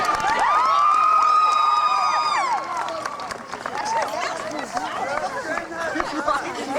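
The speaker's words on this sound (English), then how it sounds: "Another nice round of applause." A high school crowd at a Fairfield High homecoming pep rally cheers and shouts loudly in a dense, echoing roar of many voices, with some clapping mixed in, easing off slightly midway but staying lively throughout.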